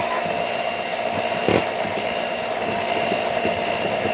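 An electric mixer with a whisk attachment whips heavy cream into homemade butter, giving a steady, close motor whir that holds even throughout with a single brief knock partway through.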